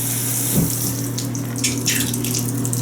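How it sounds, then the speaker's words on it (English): Hotel bathroom shower at a Branson lodge running steadily, an even hiss of spraying water close by with a few brief splashes and drips over it, no voices. "the shower head doesn't look very good, but at least it seems to work pretty well"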